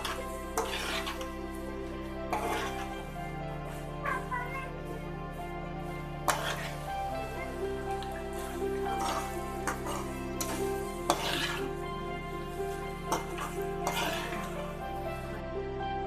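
Chow mein noodles being stirred in a pan on a gas stove, repeated soft scraping strokes of a utensil over a faint sizzle, with occasional metallic clinks, near and fairly quiet.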